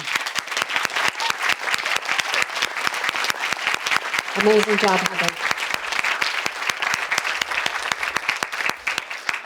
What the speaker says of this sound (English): How about we have another round of applause again?